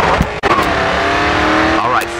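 Race car engine at full throttle in the racing video game GRID 2, a loud, continuous high-pitched engine whine with rising gear pitch sweeps and a brief gear-change dip, while someone talks over it.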